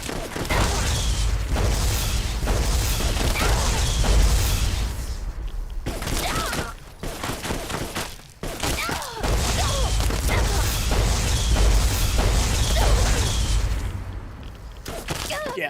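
Rapid, sustained gunfire from a player spraying bullets at skeleton enemies in the Fallout game Tale of Two Wastelands, near Jackrabbit Springs, fills most of the stretch with loud bursts, dipping briefly twice, with game sounds layered in.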